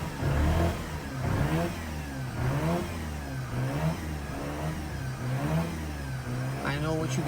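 A cold Mazda RX-8 rotary engine with a hard-starting fault cranks and revs with the throttle floored, producing repeated rising and falling surges of engine roar in a close, continuous run of several bursts.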